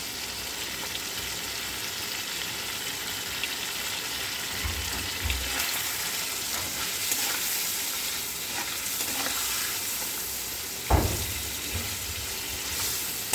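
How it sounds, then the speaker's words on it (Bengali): Fish fat sizzles and fries steadily in a pan with turmeric and salt, ahead of potatoes and onions, with a few clattering stirs and a louder scrape near the end; no one speaks. "আমি এটা আলু আর পেঁয়াজ দিয়ে ভাজা করব"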